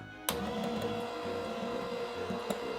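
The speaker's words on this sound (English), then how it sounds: "I like when the hand mixer mixes different colors." An electric hand mixer whirs steadily while whipping orange meringue in a bowl, a close, continuous motor drone with slight wobbles and a faint beater tap near the end, alone without speech.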